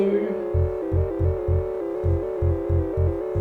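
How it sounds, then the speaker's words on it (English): A low, throbbing synth bass patch from VCV Rack, sequenced by a Digitakt over MIDI, pulses in a steady repeating rhythm beneath sustained droning tones, with no voices. "So there's a bass patch that comes in."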